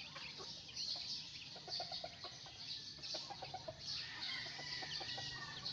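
Chickens and young chicks on a small farm cluck and cheep in repeated short bursts while pecking, heard fairly close over a constant outdoor background hiss.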